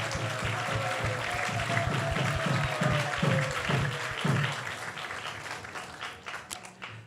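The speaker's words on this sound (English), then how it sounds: "So let's give him a big round of applause." Steady audience applause from a sizable crowd at an ISKCON temple talk, with a few louder individual claps standing out before it gradually thins and tapers off.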